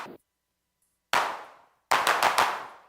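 Synthetic 808-style claps from a Eurorack modular synth: one short hit, a pause, then a quick burst of several snappy claps, each with a brief noisy decay, dry and alone.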